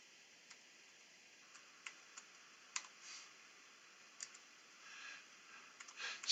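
Someone types on a computer keyboard, giving faint, scattered key clicks at an uneven pace, with a few small bursts of rapid keystrokes against a quiet background and no voices.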